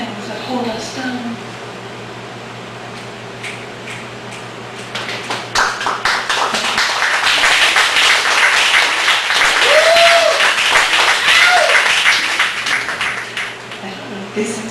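An audience at a poetry open mic in a Chicago cafe bursts into applause. The dense clapping swells and holds steady as a loud, close wash, and voices can be heard in the room.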